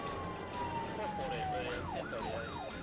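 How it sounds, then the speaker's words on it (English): A police siren wails with a rising and falling tone, steady and fairly close, over constant background road noise. "I activated my lights and siren."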